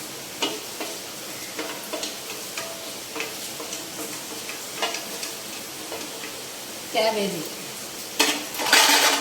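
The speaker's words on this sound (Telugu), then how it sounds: "ఇప్పుడు మనం క్యాబేజీ వేసేసుకుందాం" Cabbage and ivy gourd are sautéed in a pan, with intermittent scrapes and clinks of a spoon against the metal over a soft sizzle, ending in a louder burst of stirring.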